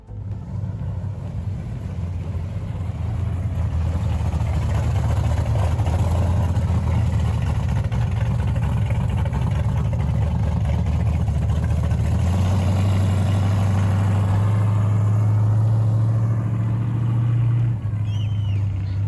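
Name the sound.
1969 Ford Mustang Boss 408 tribute car driving by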